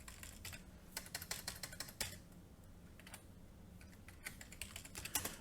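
Close, crisp keystrokes on a computer keyboard as C++ code is typed, coming in quick bursts separated by short pauses over a quiet background.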